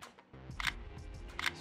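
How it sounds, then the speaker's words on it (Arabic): A Sony A6300 mirrorless camera fires its shutter twice, two crisp mechanical clicks about a second apart, recorded up close against a quiet background. "صوت شتر،"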